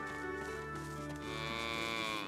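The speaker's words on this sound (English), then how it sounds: "Cows!" Cows mooing in the fantasy role-playing game Divinity: Original Sin 2, a single drawn-out, tonal low moo that rises in pitch near the end, heard alone without speech.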